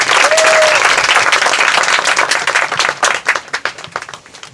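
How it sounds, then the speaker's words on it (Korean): An audience at a book concert with a poet claps steadily and densely, the applause beginning strong and thinning into scattered claps as it fades. "박수와 함께 청해볼까요?"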